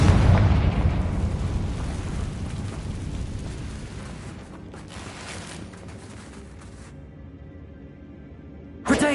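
A Confringo blasting spell detonates in Hogwarts Legacy on PS5 with a loud, booming explosion that rumbles and slowly fades over several seconds. A second sharp burst cuts in at the very end.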